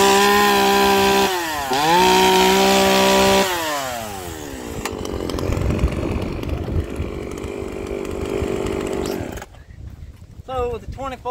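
A JonCutter G7500 chainsaw fitted with a 24-inch bar revs to a loud high whine, then bogs into a rough, grinding cut through wood that runs for several seconds before it drops back, all close by and outdoors in gusty wind.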